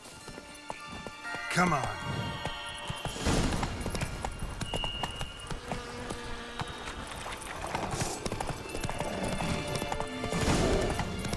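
Roach the horse gallops in The Witcher 3, with rhythmic clip-clop hoofbeats running throughout and a brief whinny near the start, under a short spoken line.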